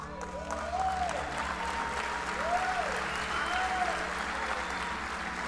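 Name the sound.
congregation applauding loudly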